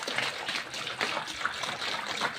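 Half a teaspoon of salt is stirred into water with a small teaspoon, making a continuous wet swishing and sloshing with quick rhythmic pulses, close up and moderately loud.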